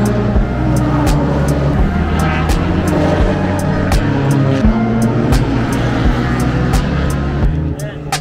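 Ordinary production cars, Nissan Kicks and Toyota Camrys among them, race at the Grand Prix of Trois-Rivières. Engines roar loudly and continuously as they pass close by, with talk faintly beneath.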